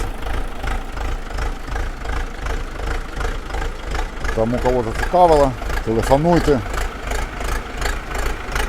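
A KENTAVR 504 F mini tractor with a 50-horsepower engine idles in a steady, low, rapid chug that stays constant throughout, while people talk close by over it.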